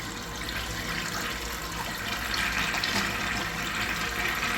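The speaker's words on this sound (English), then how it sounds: "Let's have a look at a flush." A Kilgore/Mansfield Adam urinal from the 1980s–1990s flushing, a steady rushing wash of water filling the bowl at close range, with no talk over it.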